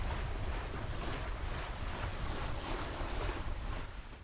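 Steady wind rush and breaking waves against the hull of a sailboat running under three sails in about 15 knots of breeze off Greek islands, a continuous loud broadband roar with no voices.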